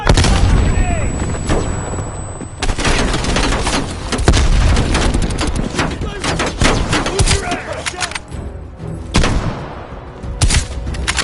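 A grenade blast in the video game Call of Duty Black Ops Cold War booms amid a dense, loud barrage of close gunfire and battlefield rumble that fills the whole stretch, with voices shouting partly buried beneath the din.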